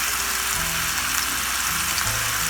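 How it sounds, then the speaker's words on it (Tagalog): Sliced onion dropped into a pan of pork belly already sizzling in its own fat for adobo, a loud steady crackling fry with a denser burst of hiss as the onion goes in, no voices. "Ilagay na po natin yung sibuyas"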